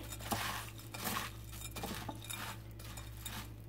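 A spoon stirring stove top stuffing pancake batter with egg in a bowl, with soft scraping and light clinks against the dish repeating irregularly, close and quiet.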